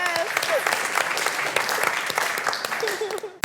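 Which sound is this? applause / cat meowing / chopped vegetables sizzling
applause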